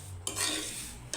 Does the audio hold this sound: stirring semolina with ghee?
yes